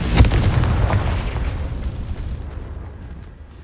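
A Confringo fire spell blasting in the video game Hogwarts Legacy, a single loud booming explosion that hits at once and rolls away in a long, fading rumble.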